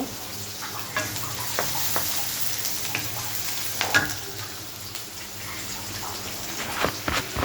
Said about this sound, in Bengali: পাঙ্গাস মাছের ডিম ভাজি করব